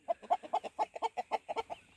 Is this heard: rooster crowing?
yes